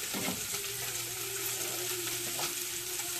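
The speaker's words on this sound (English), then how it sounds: "I'm going to go ahead and put it on a medium heat, and I'm going to add one of my butters." Butter sizzles in a pan on medium heat, a steady close frying hiss with faint stirring clicks and a low hum underneath. No one talks.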